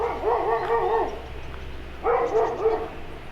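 A dog barks in two short bursts of several yips each, close and fairly loud, with a quiet pause between them inside a small village church in Northamptonshire.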